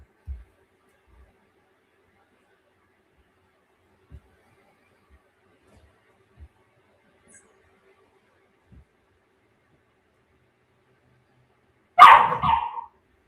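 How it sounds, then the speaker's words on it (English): A single short dog bark sounds loud and close near the end, after a long stretch of near silence broken only by faint thumps. "I don't know what the hell you barking about"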